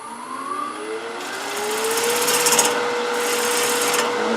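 A lathe tool cuts into spinning wood to knock off a sharp edge, a steady, close, high scraping hiss over a motor whine that builds and holds.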